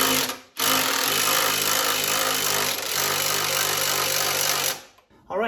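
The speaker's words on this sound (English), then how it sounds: "so I got my impact driver" An impact driver drives the lift mechanism of a Vevor motorcycle lift, a loud, continuous mechanical buzz and hammering rattle lasting about four seconds before it stops, with a brief quieter tail.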